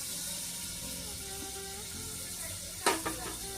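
Onions hit hot coconut oil with cinnamon, cloves and bay leaves for a peas kurma. A steady frying hiss runs throughout and suddenly bursts into a louder crackle near the end.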